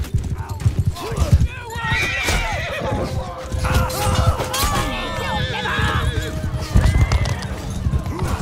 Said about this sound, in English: Okay. Horse.